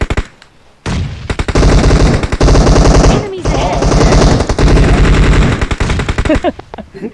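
Sustained rapid automatic gunfire in a video game, dense bursts, loud and close, continuing almost without pause for several seconds, with a brief break in the middle.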